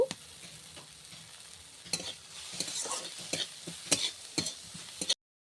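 Chopped tomato and chili powder fry with onions in a pan for paneer butter masala. A sizzle runs under repeated close scraping strokes of a stirring spoon before a sudden cutoff into silence.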